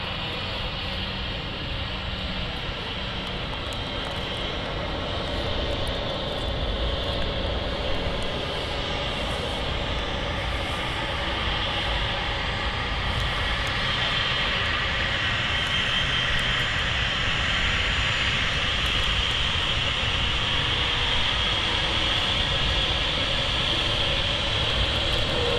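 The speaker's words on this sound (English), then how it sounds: "Tap Embraer emerging from the mist." A TAP Embraer jet at Manchester Airport gives a loud, steady engine roar that holds unbroken and close throughout, with no voices over it.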